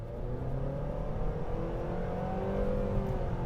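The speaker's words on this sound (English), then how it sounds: "When you're accelerating hard, like I'm going to do right now" A 2023 Nissan Sentra with a CVT accelerating hard, its engine note a steady, buzzy drone that climbs gradually in pitch and holds loud and close throughout, with no voices.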